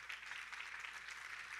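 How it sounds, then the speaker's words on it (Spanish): Audience applause at an AI regulation conference in Mexico, a steady, even patter of many hands clapping at moderate, somewhat distant level for the whole short stretch. "Un aplauso para él."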